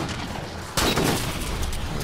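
Gunfire in the video game Halo 4 bursts in suddenly after a quiet stretch, then keeps going as loud, dense, continuous shooting with no talking.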